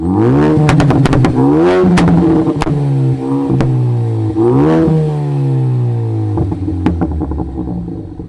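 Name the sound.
Ford Focus ST exhaust revving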